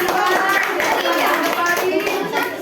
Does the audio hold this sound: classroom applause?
yes